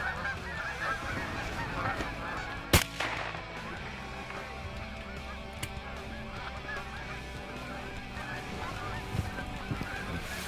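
Geese honk repeatedly through a waterfowl hunt over a decoy spread, a busy chorus of near and distant calls with a couple of sharp gunshot cracks cutting in.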